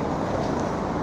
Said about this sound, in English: And the noises you can hear there are sewing machines.